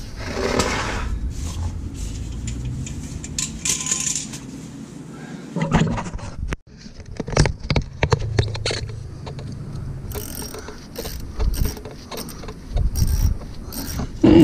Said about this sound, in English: we're just going to tighten this until it snugs the washers, or yeah, the bushings